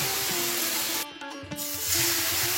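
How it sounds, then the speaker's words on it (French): Rava dosa batter is thrown onto a hot oiled pan and sizzles, giving a loud, steady spray-like hiss that breaks off for a moment and then comes back stronger. "Sur une poêle huilée et bien chaude, lancez à la volée la préparation"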